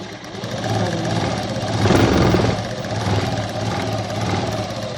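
A sewing machine stitching a boat-neck blouse runs in a steady, close mechanical whir for about five seconds, swelling slightly in the middle, with no talking.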